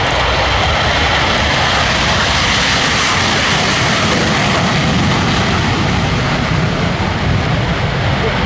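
A Viper light aircraft takes off for its display at the SIAF 2012 air show, its engine a loud, steady, close roar that fills the scene without letting up.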